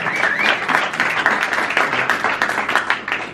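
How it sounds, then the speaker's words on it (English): A round of applause from an audience, dense clapping sustained for a few seconds at close range, rising and falling slightly. "Can we give him a round of applause, please?"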